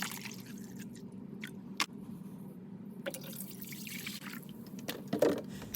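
White vinegar poured over dirt-caked beach shells in a container, a soft steady liquid trickle with occasional drips and a small splash near the end, close and fairly quiet.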